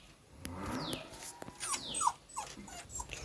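A puppy in its outdoor kennel whimpers and whines in a series of thin, high, falling cries, close by and growing more insistent.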